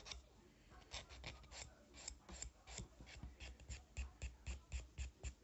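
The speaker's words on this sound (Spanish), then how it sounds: "pues ya me he lijado las uñas" Fingernails filed with a nail file: quick, steady rasping strokes in a regular rhythm, close and fairly quiet, growing more even and pronounced toward the end.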